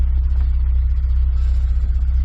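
Honda S2000 engine running steadily after a starter wiring fix, a loud, close, continuous low rumble at idle with no voices.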